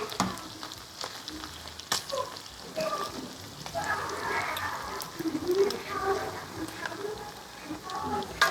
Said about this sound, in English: whilst this is frying, you should be monitoring